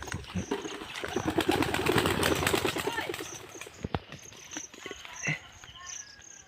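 Pigeons flapping and fluttering nearby, with a flurry of wingbeats and soft movements, plus a steady insect chirp in the background.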